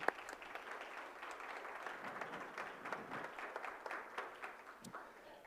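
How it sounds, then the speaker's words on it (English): An audience at a Rochester Board of Education business meeting claps for scholar athletes, a soft, distant and steady patter of applause with no talk over it. "Let's clap that up."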